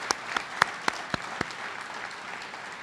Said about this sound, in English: let's all give them both a round of applause